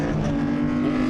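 Mark IV Volkswagen Golf race cars battling at Silverstone, engines droning loud and steady, several cars close together with a sustained high-revving roar.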